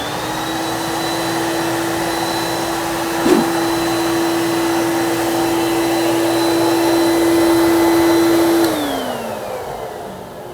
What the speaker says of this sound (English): That's the Crain 280 HD air mover.